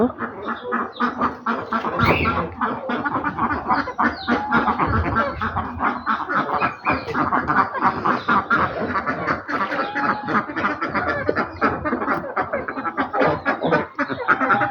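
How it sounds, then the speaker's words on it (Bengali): A flock of domestic ducks on a duck farm quacks continuously and loudly up close, a dense overlapping chorus that never lets up. "আমার দেশি হাঁসের খামারে আমি এখন যাইতেছি, তাদেরকে খাওয়াইব, আদার পানি দিব"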